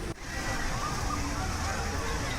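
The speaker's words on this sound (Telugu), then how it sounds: "ఈ వాటర్ ఫౌంటైన్ అనేది దీనికి మంచి అట్రాక్షన్" Steady rushing splash of falling water, a continuous dense hiss from a fountain close by at Mini Shilparamam, Uppal, Hyderabad, with faint talk underneath.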